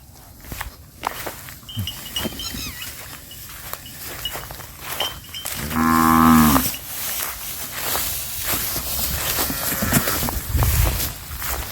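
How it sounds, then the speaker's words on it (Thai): A free-grazing herd of about thirty cattle in an open field, with one loud close moo rising mid-way amid shuffling hooves, footsteps and ambient outdoor noise, and two cows playing nearby. "วัวสองตัวนี้เล่นกันนี่ครับ"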